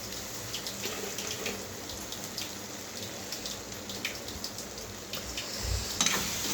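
Water poured into a cooking pan of meal maker and tomato curry, a steady close trickling stream with light splashes and a brief heavier gush near the end, no voices.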